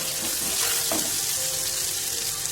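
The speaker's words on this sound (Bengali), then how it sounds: "শুকনো লঙ্কা এবার দিয়ে দিচ্ছি আমরা" Dried red chillies frying in oil for a spinach dish, a dense, close, continuous hiss of sizzling oil with a brief stirring rustle near the start.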